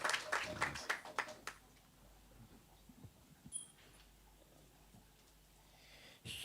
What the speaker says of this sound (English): Give him a round of applause just to be here.